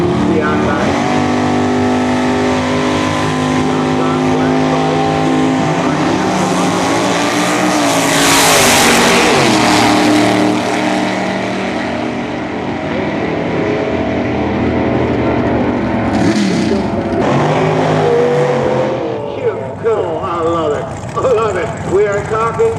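A 1937 Fiat drag car powered by a small block 355 Chevy engine roars loudly and continuously, revving and swelling as it passes, with a crowd and announcer talking over it.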